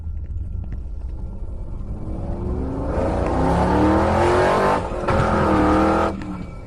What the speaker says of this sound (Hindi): और फिर रॉड बाइक को काफी तेज भगाता है